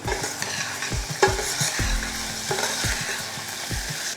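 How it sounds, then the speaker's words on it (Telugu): Onions and chopped tomato sizzle and fry in a pan for sesame rasam, with steady hiss and repeated stirring scrapes and clinks close by, no voices. "ఉల్లిపాయలు ఒక్క నిమిషం వేగిన తర్వాత ఒక పెద్ద సైజు టమాటాని ముక్కలా కట్ చేసుకొని వేసుకోవాలి"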